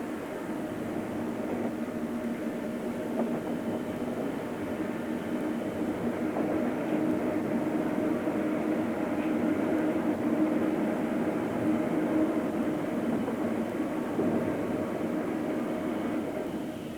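A long-distance train runs along a straight track across the Australian outback, a steady, loud rumble of wheels and engine that holds close and continuous throughout, with no talk.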